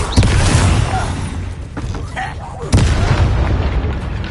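Confringo fire spell in Hogwarts Legacy: two loud booming blasts, one near the start and another just before three seconds, with voices speaking over the combat.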